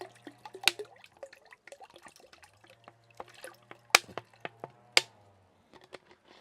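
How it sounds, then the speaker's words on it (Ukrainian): Liquid fertilizer made with sodium humate being poured out into water for tomato plants, heard as a run of sharp drips, splashes and small impacts with a faint trickle beneath, close by and with no talking. "Повністю все виливаю."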